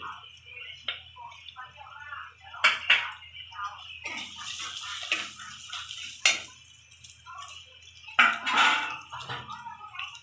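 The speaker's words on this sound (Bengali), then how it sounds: "অল্প একটু জল দিয়ে দিচ্ছি" A little water poured into frying spices in a pan brings short hissing bursts and splashes amid light clinks of utensils, with a voice talking quietly in between.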